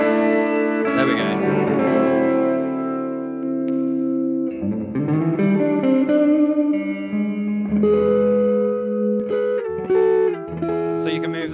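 Electric guitar notes and chords ring out with a long, spacious cathedral reverb, tails lingering between phrases.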